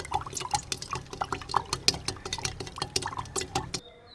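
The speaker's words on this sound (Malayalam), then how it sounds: "ഈ പഞ്ചസാര ഒന്ന് നമുക്ക് നന്നായിട്ട് ഇളക്കി ഒന്ന് മിക്സ് ചെയ്ത് കൊടുക്കാം." A spoon stirs sugar into a pineapple toddy mixture, giving rhythmic, close liquid swishes with light clinks against the container that continue steadily and then stop just before the end.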